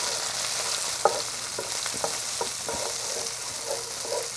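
Garlic sizzles steadily in a hot pan for an Iranian vegetable stew, a soft continuous frying hiss broken by a few brief stirring scrapes and clicks, close by with no voices.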